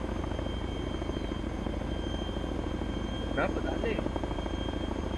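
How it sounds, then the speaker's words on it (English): A Chinook helicopter in the video game Arma 3 gives off a steady, loud rotor drone throughout, while a person talks briefly over it. "Chinook, Chinook."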